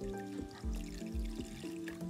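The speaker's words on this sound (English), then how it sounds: "So please try to pour some water onto the fabric." Water pours onto a water-repellent furoshiki cloth, making a faint, continuous trickling splash with soft irregular drips.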